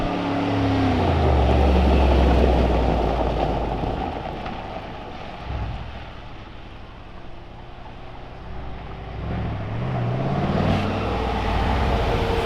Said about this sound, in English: It's a biturbo V8, 900 horsepower. Rocket engine by Brabus. That's why it sounds like that.